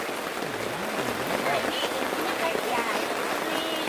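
Steady rain falling on a camping ground near the Kawah Ratu hiking area, a constant close hiss of drops on surfaces, with people talking faintly underneath.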